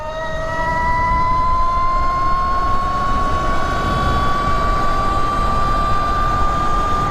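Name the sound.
electric dirt bike at full throttle in turbo mode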